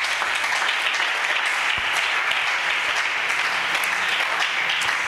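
A church congregation bursts into sustained applause after a scripture reading, a loud dense wash of clapping filling the room with no speech over it.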